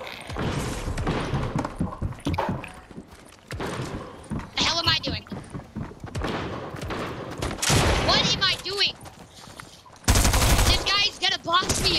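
Automatic weapon fire in a Fortnite-style shooter, with rapid bursts and scattered shots mixed with thumps, heard under excited talking throughout.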